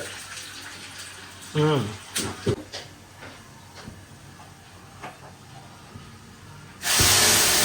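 Crushed garlic and curry leaves tossed into hot oil in a home kitchen. Voices talk at first, then a sudden loud, broadband sizzle erupts near the end and carries on steadily.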